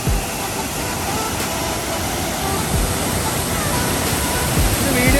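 Ripple Waterfalls in Munnar, Idukki, gives a steady, dense roar of falling water with blowing spray and mist, loud and continuous throughout with no break.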